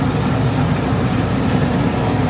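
A combine harvester engine fires up into a loud, dense, steady rumble with a gritty broadband roar, close by and unbroken, with no voices.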